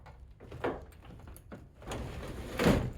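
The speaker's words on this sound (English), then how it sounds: "I should be able to just lift this door with one hand." A garage door lifted by hand during a budget garage renovation gives several quiet scraping, rolling bursts separated by short pauses, with the longest grinding rush near the end.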